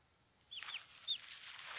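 A chick out in the grass gives a few faint, high, short peeps against a quiet outdoor background, with no talk.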